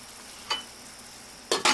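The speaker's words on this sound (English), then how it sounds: "while the onions and garlic are simmering" Onions and garlic in butter in a pan give a faint background sizzle, broken by three short, bright scraping stirs near the start and the end.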